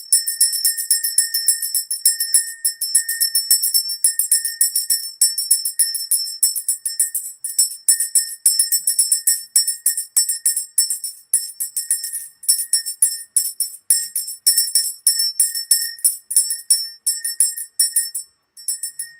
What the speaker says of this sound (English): I'm ringing the bell for the children.